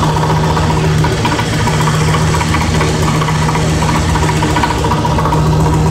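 Car engine idling steadily and loudly with a constant low hum and a faint repetitive knock, the engine in the middle of valve cover gasket work, no one talking.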